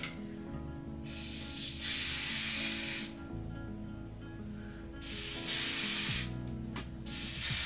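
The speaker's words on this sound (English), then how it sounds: "Spray a little bit of the lace spray." Lace spray is sprayed onto a wig in three separate bursts, each a loud airy hiss lasting about a second, with brief quiet gaps between them.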